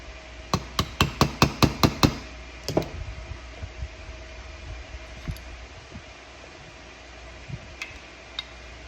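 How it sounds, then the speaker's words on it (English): A quick run of about eight sharp metallic hammer taps on a 3/32 transfer punch marking a hole in pocket knife work, then a few softer knocks and scattered clicks over a steady fan-like hiss. "we will put our 3/32 transfer punch, and we will mark our hole right there"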